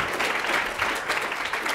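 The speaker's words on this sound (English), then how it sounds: "Give him a round of applause." Brief, fairly close applause from an audience at a panel session on animal farming in the U.S., with many hands clapping evenly for under two seconds.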